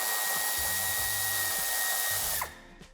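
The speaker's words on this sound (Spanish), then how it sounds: "Retiramos el tornillo" A power tool whirs steadily up close while a screw is removed from a 2022 Mercedes-Benz T-Class during tow hitch fitting, a continuous high drone with pulses from the bit, then stopping abruptly near the end.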